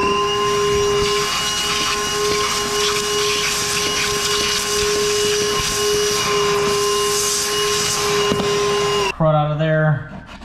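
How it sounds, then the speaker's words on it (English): A vacuum cleaner runs loud and steady while clearing debris out of a gap between tongue-and-groove click flooring boards, with a constant whining drone that cuts off near the end. "So all we're gonna do is we're gonna vacuum this out really well."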